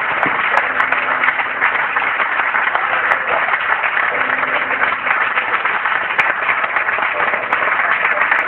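A church congregation at a 2014 conference in Mártires, Angola applauds in worship. The clapping is steady, dense and loud for the whole stretch, and voices can be heard faintly underneath it.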